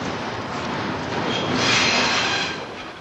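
A northbound train arrives at Shanghai railway station in 1985, giving a steady rolling rail rumble that swells slightly mid-way and then eases.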